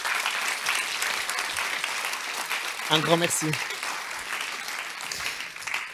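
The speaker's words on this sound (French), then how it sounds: "On est aux applaudissements" Audience applause at the close of a European day conference in 2021, a steady dense wash of clapping filling the room throughout, with a brief spoken thank-you rising over it midway.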